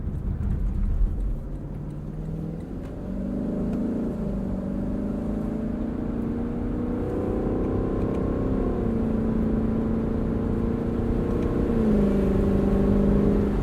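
A 2022 Lexus LC sports car engine revs hard and drops through downshifts with a torque-converter automatic, a loud, continuous rising and falling growl heard from inside, with no voices.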